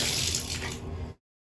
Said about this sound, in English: let's turn the water on